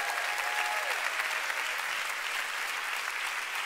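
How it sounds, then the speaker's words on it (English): Church congregation clapping together during a sermon, a steady wash of applause from many hands, moderately loud and continuous. "Give the Lord a big clap."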